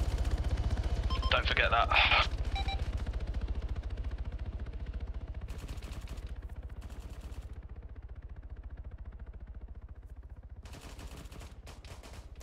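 Gunfire in the military video game ArmA 3 during a joint operation: a rapid burst of automatic fire near the start, then scattered shots and later bursts, with radio-style voices talking over it.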